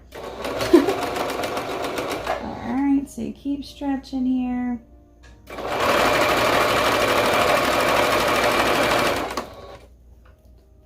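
A sewing machine runs in two bursts, a short stop-start run and then a longer steady whir of stitching, with someone talking briefly in between.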